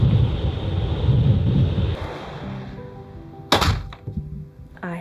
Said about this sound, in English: It's very stormy today. It's been raining the whole day.